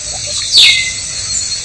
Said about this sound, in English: And there's cracking bird life here.